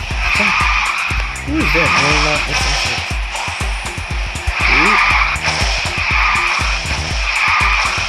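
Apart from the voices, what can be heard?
car drifting tire skid in video game Garena Speed Drifters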